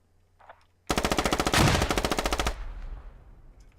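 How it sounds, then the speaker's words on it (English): Loud rapid automatic gunfire in a tactical team shooter esports match, one sustained burst of about a second and a half of fast rhythmic shots with a faint echoing tail, no talk over it. "So Burak trying to put on some covering fire"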